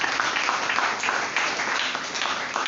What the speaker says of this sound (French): Que quelqu'un acclame la parole de Dieu